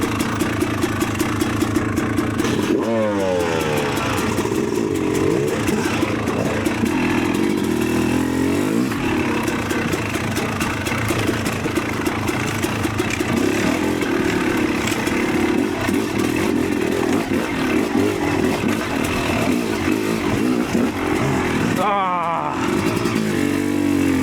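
A Yamaha YZ300 two-stroke dirt bike with electric start, ridden off-road, revs hard and steadily throughout, its loud engine note climbing and falling through gear changes and throttle bursts, with brief dips near the start and end.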